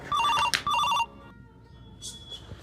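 A telephone rings with a warbling electronic trill in two loud bursts close by, then stops; a faint beep follows after a short pause.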